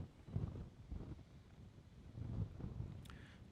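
Wind gusts outdoors at a trap shooting range, a faint low buffeting roar that swells and fades in a few irregular surges against the microphone.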